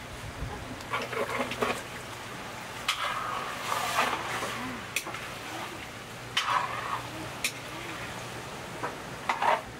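Chicken drumsticks and wings sauté with aromatics in a pan, giving a continuous low frying hiss broken by scattered utensil scrapes and metallic clinks, close and moderately loud.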